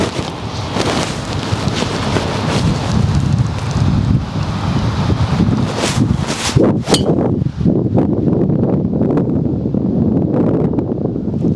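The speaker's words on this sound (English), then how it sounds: "So that wind's pretty strong on these lightweight golf balls" Strong wind gusts across an outdoor golf range and buffets the microphone in a continuous loud roar, with a couple of faint metallic clinks partway through.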